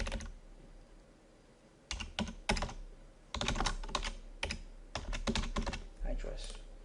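Bursts of typing on a computer keyboard, quick clustered keystrokes broken by short pauses, close and clear with no talking.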